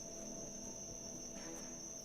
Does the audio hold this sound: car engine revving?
no